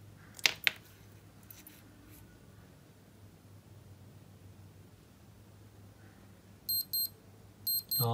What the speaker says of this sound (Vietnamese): Thực ra chuông nó kêu thì cũng bình thường thôi, không phải là to lắm.